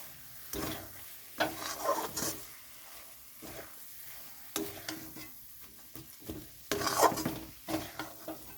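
Grated coconut stirred and dry-fried in a pan for dudh puli, with intermittent scraping strokes of a spatula against the pan over a soft sizzle, close and moderately loud, no talking.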